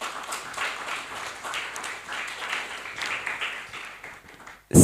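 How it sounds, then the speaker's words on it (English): Audience applause at an environmental and climate justice moot court event, a lively rippling clatter of many hands that swells and fades before ending with a loud bump. "So a round of applause for all of you."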